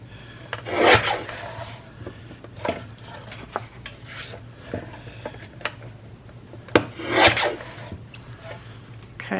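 Scissors or a blade trim the white edge off a clear self-adhesive plastic pouch, giving a few rasping, rubbing cuts in short bursts with quiet handling noises between them.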